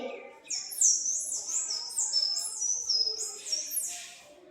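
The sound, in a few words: child imitating a sunbird call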